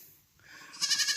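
A sheep or lamb lets out a single wavering bleat close by, rising out of near silence and lasting about half a second.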